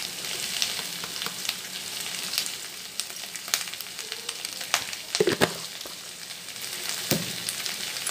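Vegetables fry in a pan over a medium flame for masala pasta, a continuous close hiss and sizzle with a few brief clinks and stirring scrapes, no voices.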